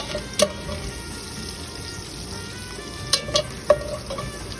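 Onions added to a pot of browning chicken-soup ingredients, giving a soft, steady sizzle with a few sharp clinks of a stirring utensil against the pot.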